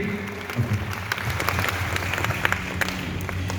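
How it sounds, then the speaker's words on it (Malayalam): An audience breaks into sustained, dense clapping at a literary gathering, a steady wash of many hands that stays even across the moment. "നല്ലൊരു കയ്യടി എടുക്കാം, നല്ല കയ്യടി."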